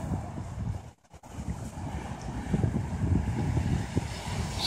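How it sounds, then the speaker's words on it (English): Waves lapping around midnight at a quiet waterside spot, a steady wash of water under strong wind noise on the microphone, with a brief dip near the start. "You hear the waves popping in here."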